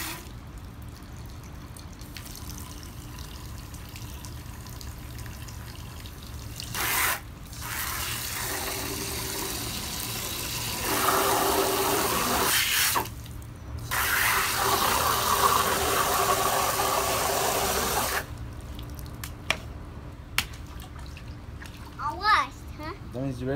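Water running and splashing into a children's mud play area, coming in bursts between pauses, with a voice and an adult talking over it.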